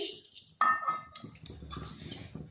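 Whole coriander seeds stirred in a hot kadai with a metal spoon, giving scraping clinks and light rattles against the pan, close and moderately loud, with no talking.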